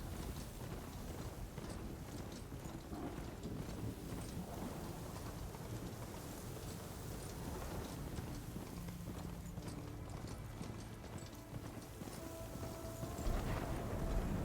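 Steady rain pours across the wild landscape of Horizon Forbidden West while thunder rumbles low, and hooves clip-clop rhythmically throughout as a mount trots on, with no one speaking.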